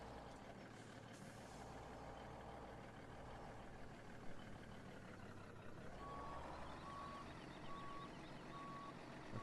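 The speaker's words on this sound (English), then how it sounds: "Let's see if I can't get this truck in here a little better." In Farming Simulator 17, a truck beeps in reverse, its evenly spaced tones starting late over a loud steady engine idle and air brake hiss that run throughout.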